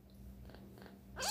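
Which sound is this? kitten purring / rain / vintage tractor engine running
kitten purring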